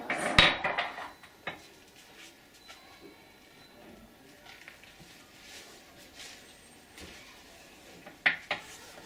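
Toy dishes clatter inside a child's toy dishwasher: a burst of bright clinks at the start, scattered soft knocks and rattles through the middle, and a few sharper clinks near the end.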